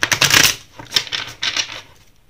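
Tarot cards riffled and shuffled by hand during a reading, a few close, papery bursts of flicking and slapping over about two seconds that fade out toward the end.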